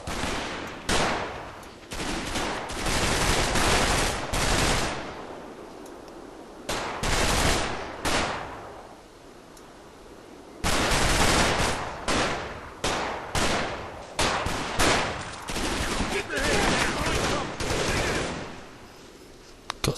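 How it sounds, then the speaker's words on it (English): Gunfire from the wartime strategy game Combat Mission: rattling machine-gun bursts and loud rifle volleys crackle in dense, repeated fusillades, broken by brief quiet gaps between the clusters. "Got some fire coming in along this hedgerow here."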